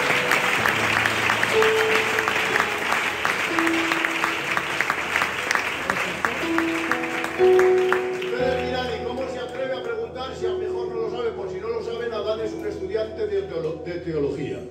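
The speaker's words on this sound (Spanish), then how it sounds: "Pues un aplauso para la Adán" A church congregation claps in a burst of close, lively applause that runs under a voice and tonal sounds, then fades out as music takes over.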